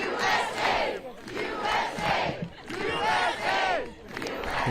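A crowd of protesters chants in loud, rhythmic waves of massed voices, each phrase rising and falling over and over with cheering between them.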